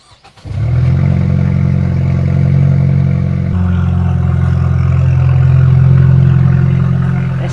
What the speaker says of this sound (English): I'm going to rev the piss out of it with no exhaust